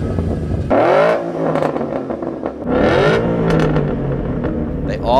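A 2011-2014 Mustang GT fitted with a Borla exhaust revs twice, each blip rising sharply and falling back to a rumbling idle, loud and close, with some speech mixed in.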